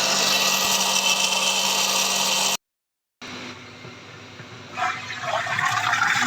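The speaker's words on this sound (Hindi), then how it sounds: "अभी सूखा धनिया जो है उसको ग्राइंड करने लगे हैं। तमाम मसाला जात को ग्राइंड किया जा रहा है।" An electric grinder whirs loudly and steadily as it grinds dry coriander and other spices, cutting out for under a second before starting up again and running on.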